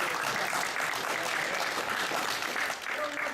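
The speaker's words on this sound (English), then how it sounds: "Give that a hand." Audience applause at a men's event, a steady, fairly faint crowd clapping heard from a distance, continuous through the short stretch with no clear voices over it.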